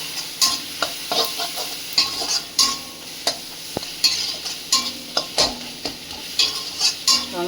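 Repeated scraping strokes of a utensil stirring turmeric and chilli powder in a pan, steady sizzling of frying underneath, rhythmic and close.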